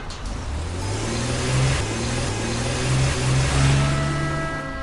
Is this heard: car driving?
yes